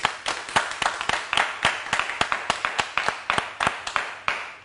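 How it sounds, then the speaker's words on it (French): Audience applause as a few people clap in a steady, even rhythm of sharp, distinct claps, moderately close and loud, with little talk beneath. "Bravo, ça s'applaudit. Applaudissez."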